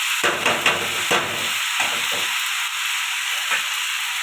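Red amaranth greens with a little turmeric fry in a pan, giving a loud, steady steamy hiss and sizzle, with a few stirring scrapes and rustles near the start.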